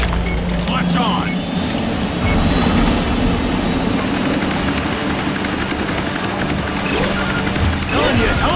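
Roaring aircraft engine from the video game Bulletstorm, a steady loud broadband whoosh and rumble with faint whining tones sweeping across it, going on throughout.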